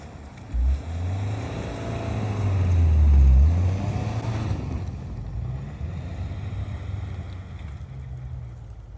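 Subaru Outback climbs a hill through deep unplowed snow, its engine droning and swelling as throttle builds, then easing back, with wind buffeting the microphone throughout.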